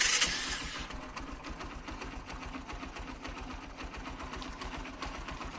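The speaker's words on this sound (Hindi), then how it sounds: "क्लच को पकड़ के मैं अब इसकी जो सेल्फ का बटन है उसको दबा के सेल्फ चेक कर लेता हूँ।" A motorcycle engine being started with its electric self-starter after a starter restoration, a brief high whir of cranking giving way to a steady, close, rapid running rhythm, with no talk.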